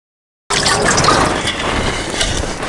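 Water sprinkled and poured over toor dal packed in red soil, a steady close wet splashing and trickling that continues without a break after a short silent start.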